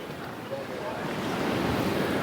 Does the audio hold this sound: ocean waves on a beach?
yes